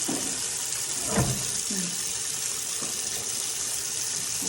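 Hot water, around boiling, gushes steadily from a kitchen tap into a sink for dishwashing, a constant close rushing stream with a few faint clinks behind it.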